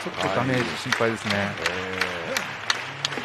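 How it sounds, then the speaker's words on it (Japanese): Steady rhythmic hand clapping from a wrestling crowd at a NOAH pro wrestling match in Kawasaki, continuous throughout while a commentator talks over it. "割れんばかりの手拍子、これは2人に送られています"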